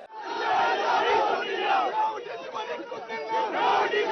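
A dense crowd gathered around T. P. Chandrasekharan's home roars and chants revolutionary slogans, a continuous mass of voices with shouted calls rising and falling close by.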